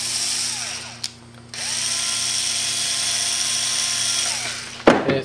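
A power tool tightens a hose fitting on a Corney keg pre-chiller, whirring steadily for several seconds after a brief stop-start, then ending with a sharp clunk.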